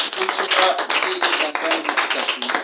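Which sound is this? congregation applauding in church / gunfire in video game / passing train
congregation applauding in church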